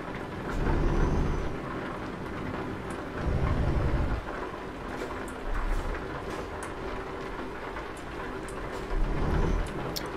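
Steady rain falls in the Euro Truck Simulator 2 game, with several low thunder rumbles rolling in at intervals over the constant hiss, and no voices.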